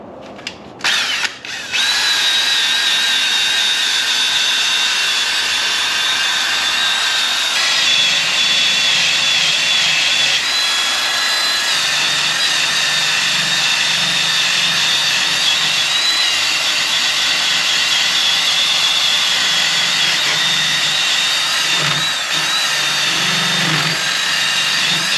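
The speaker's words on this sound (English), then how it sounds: "we're gonna use a sanding wheel, a wire sanding wheel" A wire sanding wheel on a power tool grinds steadily against the underbody of a 1979 Chevrolet Malibu G-body to strip the coating, producing a loud, continuous high-pitched whine with a rough scraping texture that runs close and unbroken throughout.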